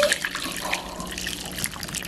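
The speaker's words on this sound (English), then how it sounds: "So you just pour some steaming milk" Steaming milk poured over a hot chocolate bomb in a mug: a steady, close liquid pouring sound lasting about two seconds, with no talking.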